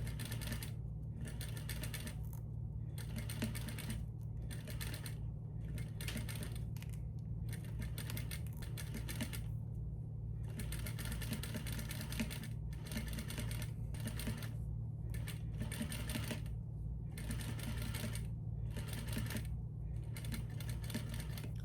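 A sewing machine sews an invisible zipper onto a pillow with welt in steady bursts of rapid stitching, pausing briefly between runs, close and moderately quiet over a low hum.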